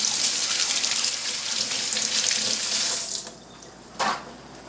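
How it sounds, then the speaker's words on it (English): Hands rinsed under a running kitchen tap while preparing fish tacos with guacamole; a steady close splash of water flows for about three seconds, stops, then a short final burst of water follows. "What's the sound of one man rinsing his hands?"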